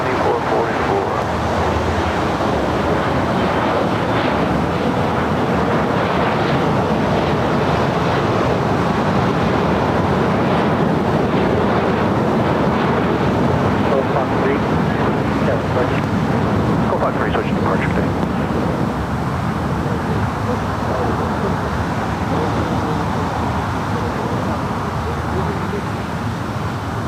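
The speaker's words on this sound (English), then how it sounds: "That Delta A319 now rolling it down to 5 right." Distant, broad roar of a Delta Airbus A319 rolling down runway 25 right at LAX for takeoff, a sustained wash of engine noise mixed with outdoor wind, swelling slightly midway and easing toward the end.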